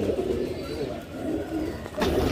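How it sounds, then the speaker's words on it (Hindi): Teddy pigeons, a breed of flying pigeon, coo close by in a soft, steady stream of low, rolling calls that lasts a couple of seconds. "टेडी कबूतर तो आपको पता ही है कि पूरा पूरा दिन उड़ने वाले कबूतर हैं ये सब"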